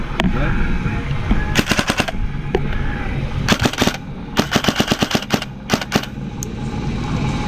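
Airsoft gun firing in full-auto bursts during an airsoft game, several rapid rattling strings of shots with gaps between them, close and loud over steady background noise and some talk.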